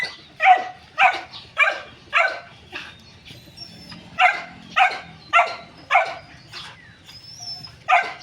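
A noisy dog named Chuchay barks in bursts of three or four loud, close yaps, pausing between volleys, agitated at a rabbit nearby; no one speaks.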